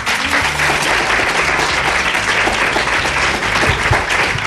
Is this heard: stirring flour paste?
no